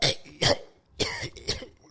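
A voice mimics a choking cough: four short, strained, breathy hacks in quick succession, close and fairly quiet.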